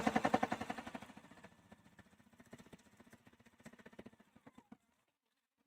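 A sewing machine stitches waterproof splash fabric for a reusable placemat, a fast rhythmic whirring that starts strongest, eases, then pulses in slower bursts before stopping; fairly quiet.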